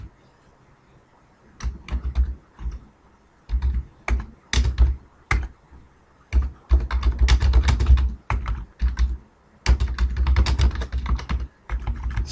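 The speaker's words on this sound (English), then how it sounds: "excuse my terrible typing here." Bursts of computer keyboard typing, close and crisp, in uneven clusters of rapid keystrokes separated by short pauses, with no talking.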